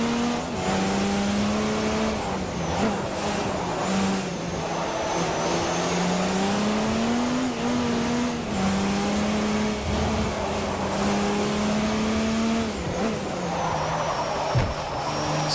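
Peugeot LMP1 prototype race cars scream around the track in Forza Motorsport 4, a loud sustained engine drone rising and falling through gear shifts, with brief downshift blips and no talk.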